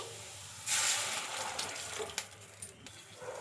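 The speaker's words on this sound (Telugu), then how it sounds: "ఇందులోకి ఒక 3 కప్పుల దాకా వాటర్ అయితే వేసుకోవాలి" Water being poured into a cooking pan of softened carrots gives a steady broadband rush starting about two-thirds of a second in, with a few clinks and splashes toward the end, close and fairly soft.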